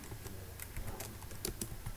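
Quick run of keystrokes on a computer keyboard while entering text into a Microsoft Excel spreadsheet, soft irregular clicks close by against a quiet room, no voices.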